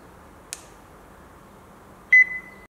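A single short electronic beep from a talking plush toy sounds once over quiet room hiss, preceded by a brief faint click.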